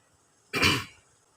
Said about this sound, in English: And I cough.